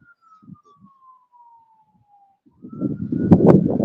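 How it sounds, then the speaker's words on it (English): An ambulance siren on a city street, a faint wailing tone held in the distance for a couple of seconds before louder street noise and a voice take over. "I'm trying to make sure that damn ambulance wasn't coming down the block."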